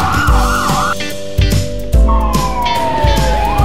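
Ambulance siren blaring up close, its tone shifting between a rising-and-falling wail and sweeping pitch slides over a steady pulsing backdrop.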